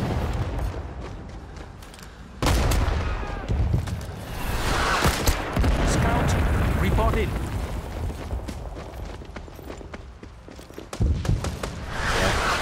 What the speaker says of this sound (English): Oh, the artillery.